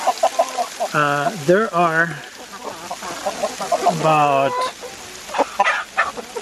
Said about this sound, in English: 75 chickens here, somewhere in that neighborhood